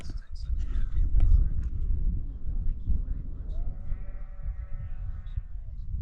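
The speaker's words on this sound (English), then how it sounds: "I can hear the sheep down in the valley." Sheep bleat at a distance down in a valley in the Cheviots, drawn-out calls rising over a steady outdoor rumble with some nearby rustling.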